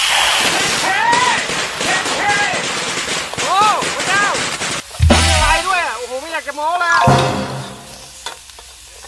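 Snake meat crackles and sizzles loudly in a hot wok during stir-frying, with popping bursts, while someone talks excitedly over the frying.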